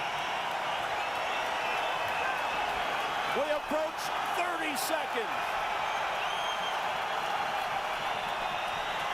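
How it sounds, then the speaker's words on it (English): Boxing crowd in Quebec City roaring steadily throughout a late-round exchange between Bernard Hopkins and Jean Pascal, with dense cheering and applause under a commentator's voice. "This crowd going wild."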